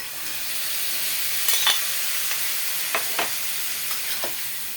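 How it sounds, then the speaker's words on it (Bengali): Vegetables with slit green chillies are stirred and fried over a gas flame, giving a soft steady sizzle broken by a few sharp spatula scrapes and taps. "গ্যাসের স্টিম বাড়িয়ে একটু নাড়াচাড়া করে"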